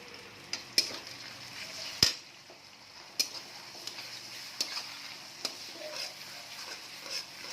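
Turmeric paste masala frying in a pan for a Bengali arr fish curry, a soft steady sizzle close up with sharp spatula scrapes and taps against the pan every second or so.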